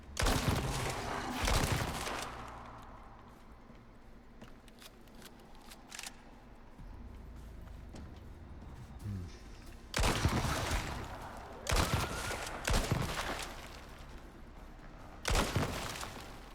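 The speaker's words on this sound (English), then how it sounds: "I love that explosion, but I think they did a good job with that, the way that shotgun blast goes." Shotgun blasts and an explosion in a video game arrive as several loud, sharp bursts with sudden decays, separated by long quieter stretches of faint game ambience.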